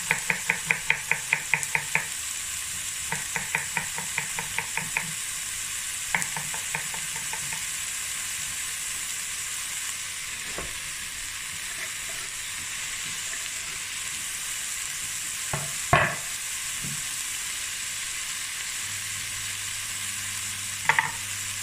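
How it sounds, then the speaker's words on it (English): Green bean stew braising in a pot gives a steady, quiet simmering hiss throughout. A burst of rhythmic chopping comes near the start and a couple of sharp knocks come later, with no talking. "let it braise for about 15 minutes"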